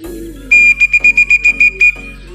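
A loud, close whistle used to call racing pigeons during a training race, one long note followed by a quick run of about eight short, evenly spaced pulses.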